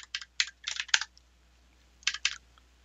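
Fingers tap out code on a computer keyboard in two quick flurries of clicky keystrokes separated by a brief pause, close and clear in a quiet room.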